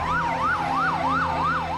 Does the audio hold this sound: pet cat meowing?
no